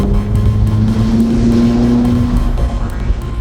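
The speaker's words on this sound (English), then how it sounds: "One big change is the sound of the engine" McLaren 570S engine droning loud and steady while driving with the windows down, a sustained rising tone over continuous road and wind rush.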